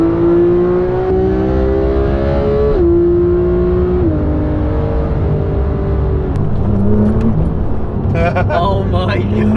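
Porsche GT3 sports car driving on the road, its engine note climbing in pitch through rising gears with a steady whir, while people talk inside the cabin.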